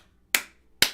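Two sharp hand claps, close and crisp, about half a second apart, each decaying quickly into near silence.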